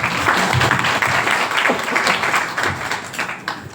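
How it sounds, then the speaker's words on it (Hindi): A seminar crowd at a Hindi motivational program claps loudly and densely throughout, a continuous burst of applause that eases slightly near the end. "बहुत बढ़िया, एक बार जोरदार तालियां"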